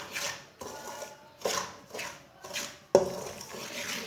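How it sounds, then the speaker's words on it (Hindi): Semolina dry-roasting in a pan over low heat for egg halwa, stirred in about five slow, separate scraping strokes, close and fairly soft, with a sharper knock near the end. "सूजी को 2 मिनट के लिए भून लेंगे।"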